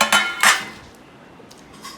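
A couple of quick clinks from a steel plate being handed over at a home meal, then quiet.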